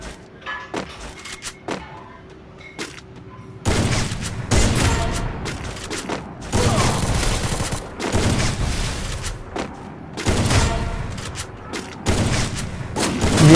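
Repeated heavy gunfire bursts from an AWM sniper rifle in Free Fire battle-royale ranked gameplay, loud broadband blasts recurring through the clip over game background noise, with little talk.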